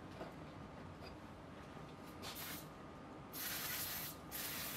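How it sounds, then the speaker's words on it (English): Steady hiss of a spray can misting onto a Club Car Precedent golf cart kingpin bushing, continuous near spraying with short bursts growing louder toward the end, no voices. "just spray it a little bit."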